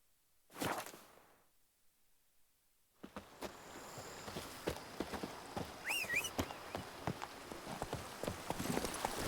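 Roach the horse gallops in The Witcher 3 video game, rapid rhythmic hoofbeats drumming close and loud after a brief whoosh and a moment of silence.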